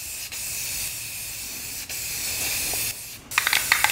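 A spray paint can sprays white paint over a soap-covered surface, giving a steady, close hiss that runs in long bursts with brief pauses, followed by a few small clatters at the end.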